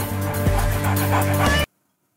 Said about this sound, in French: Mais c'est un chien!